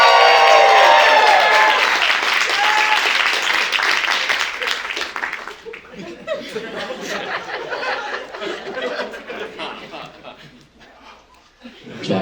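Studio audience at a live 70s-style late-night talk show breaking into loud applause and whoops, the clapping fading into scattered chuckles and chatter, with a host speaking over it.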